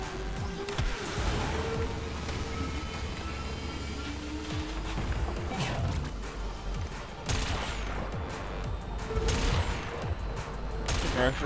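Rapid blasts of cannon fire in the futuristic racing game Wipeout Omega Collection, with repeated sharp bursts and crashes over a constant roaring engine and race drone throughout.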